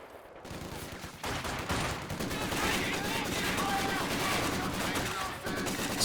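Gunfire from a sniper picking off a machine gun team in Company of Heroes 2, with repeated sharp shots and rattling bursts inside a dense, continuous battle din that runs loud throughout, commentary murmuring underneath.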